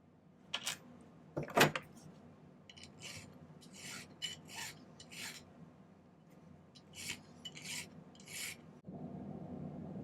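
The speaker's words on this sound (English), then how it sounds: "I might spend a little more time filing that" Rough rasping strokes of a hand file on silver earring metal, repeated in short irregular bursts with a few clicks between, fairly close.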